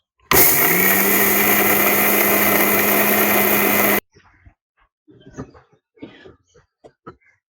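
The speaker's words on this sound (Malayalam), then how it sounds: "ആദ്യം നമുക്ക് ഈ അരിയും അണ്ടിപ്പരിപ്പും പാടെ നന്നായിട്ടൊന്ന് മിക്സിയിൽ അടിച്ചെടുക്കാം." Mixer grinder whirring loud and steady as it grinds rice and cashew nuts for ari unda, running about four seconds and then cutting off to quieter clinks and handling noises.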